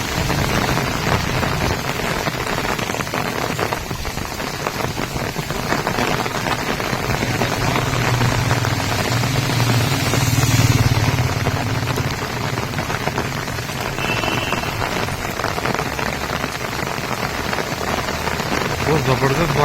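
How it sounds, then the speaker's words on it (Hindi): Heavy rain lashing down with strong gusting wind near King Koti in Hyderabad at night, a dense, loud, steady roar of downpour and wind buffeting throughout, with no clear talk. "बहुत ज़बरदस्त बारिश हो रही, हवाएं भी दबा के हैं।"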